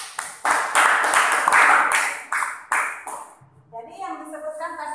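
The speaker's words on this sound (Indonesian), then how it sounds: "Beri aplaus untuk Jabar." Classroom applause for a student, a burst of clapping from many hands filling the room for about three seconds, then fading as a voice begins talking.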